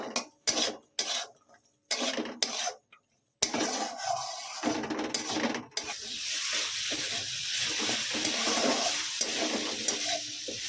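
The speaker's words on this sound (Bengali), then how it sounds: "এবার এর মধ্যে মটরটা দিয়ে দিচ্ছি। মটরটা একটু নেড়ে ছেড়ে নেব।" Green peas frying in a pan for an aloo matar paneer, with a steady sizzle after several short clatters and stirring scrapes at the start, then continuous close frying with occasional stirring.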